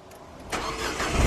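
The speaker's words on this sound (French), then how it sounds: "elle a démarré la voiture" A car engine cranks and catches at about the midpoint, then rises into a steady, rumbling idle that grows louder toward the end, heard close up inside the vehicle.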